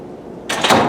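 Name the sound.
door being opened nearby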